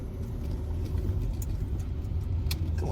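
A car engine labours on a rainy day as someone tries to get it started, a steady low rumble with slight surges running throughout, close and fairly loud, with no talking over it.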